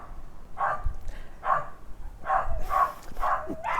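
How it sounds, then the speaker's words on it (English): Dogs bark nearby in Barbados, five or six loud, evenly spaced barks over a few seconds, with no talking over them. "The dogs have suddenly started barking as I'm doing this."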